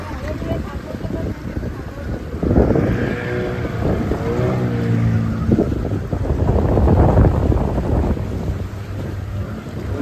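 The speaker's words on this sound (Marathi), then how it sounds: "वारा बघा किती आत. वारा खूप आहे" Strong wind buffets the microphone on a motorboat ride at sea off Malvan, passing between rocks, with a steady roar of wind and engine. A voice is heard briefly partway through.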